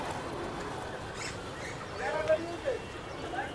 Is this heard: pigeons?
yes